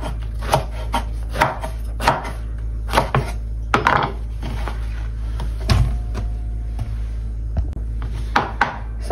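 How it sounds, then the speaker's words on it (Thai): Garlic chopped finely with a knife on a board gives a close, loud, steady run of sharp thuds, roughly two strikes per second, with no voices. "สับกระเทียมให้ละเอียดเนาะ"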